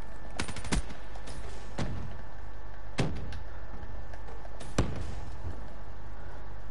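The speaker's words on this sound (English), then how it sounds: "they're just shooting grenades at each other" Grenade launcher fire and explosions in Call of Duty Black Ops 3 hardcore multiplayer: several sharp, loud blasts ring out at irregular intervals over a steady background of game ambience.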